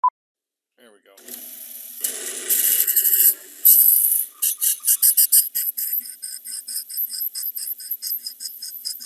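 A 13 mm twist drill bores a metal bushing on a small lathe, giving a harsh grinding rasp at first and then a series of rapid repeated scraping bursts as the cut goes on.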